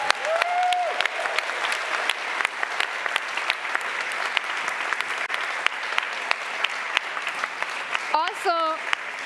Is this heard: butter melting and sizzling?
no